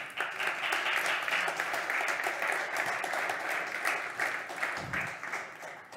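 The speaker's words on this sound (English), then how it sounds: "A warm welcome and big applause to Daniel Kondermann." An audience applauds warmly at a demo day event, dense steady clapping that carries on for several seconds and fades slightly near the end.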